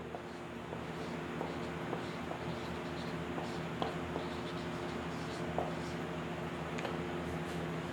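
Steady pen or chalk strokes writing by hand, a continuous scratchy texture with small taps throughout, close and moderately quiet with no talking.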